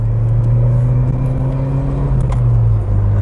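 Ford Escort RS Cosworth engine droning loudly from inside the cabin while driving, a steady low hum with a slight pitch change and no voices.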